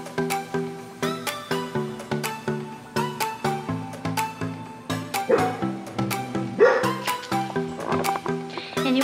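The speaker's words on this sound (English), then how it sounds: "This is Chit Chit's dog." A dog indoors in a messy room barks in a steady run of sharp, close, loud woofs, about two per second, with some yips and excited whines mixed in toward the end.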